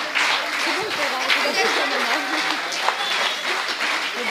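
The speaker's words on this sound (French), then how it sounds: "Que d'applaudissements, vraiment bravo, bravo pour votre travail magnifique" Audience applause at a French award ceremony, a continuous wash of clapping throughout with someone speaking over it and some chuckling.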